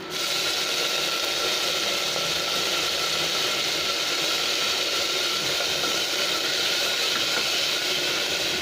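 Tomato pieces frying in a hot pan with onions for Bengali mixed dal, a steady loud sizzle and hiss that runs unbroken throughout, with no talking.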